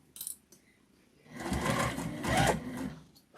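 Sewing machine stitching a beginner's tote bag, a brief tap at the start and then a close, steady motor whir with rapid needle clatter lasting about two seconds before stopping.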